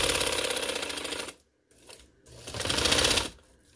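A sewing machine stitches through doubled fabric for a trouser sleeve and hem design. It runs in a loud, fast, steady whir, stops briefly, then starts again for a second burst.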